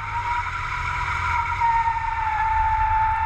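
A 2015 Hyundai Genesis V8 does a burnout: a loud, sustained tire squeal with a steady high whine rides over a low engine roar, close and continuous, with no voices.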